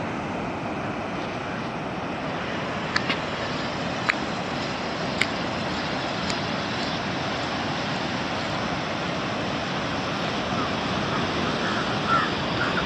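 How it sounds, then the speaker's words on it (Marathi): Steady broadband surf rolls in without a break at Anjarle beach in the early morning, a continuous wash of waves with a few faint clicks on top and no talk. "हा आहे अंजर्ले बीच."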